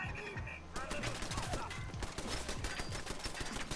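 Rapid turret gunfire in Fallout 4 survival play, a fast stuttering stream of shots starting after a brief quiet lead-in and running steadily to the end, fairly close, with a voice occasionally underneath.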